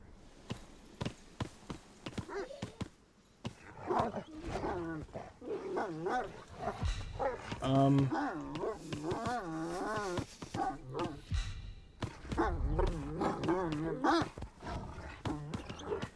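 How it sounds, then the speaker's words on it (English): Sled dogs in the video game Fade to Silence bark and let out wavering, howl-like cries in a dense, lively stretch, mixed with other game sounds. "We'll call our magical doggies again."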